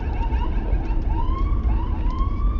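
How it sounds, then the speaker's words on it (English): An ambulance siren wails with repeated rising sweeps behind a car, heard over loud low road and engine rumble, moderately distant and steady. "Yep, there's an ambulance behind you. It's coming this way."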